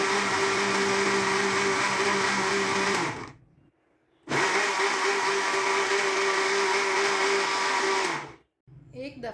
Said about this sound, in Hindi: अब एक दफ़ा हम यहाँ पे इसे ग्राइंड करेंगे